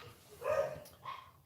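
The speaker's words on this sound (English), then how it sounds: "Sorry about the dog." A dog barks twice in a room, a louder bark followed by a softer one about half a second later, fairly close with no talk over it.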